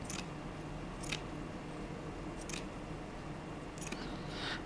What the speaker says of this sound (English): what I've got to do is cut a few bits of this lace as well